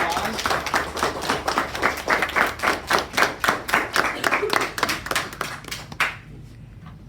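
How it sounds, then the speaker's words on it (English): A classroom group claps in a round of applause for a student reader, many hands beating in a quick, steady rhythm at close range before the clapping stops abruptly near the end. "Can we give him a round of applause?"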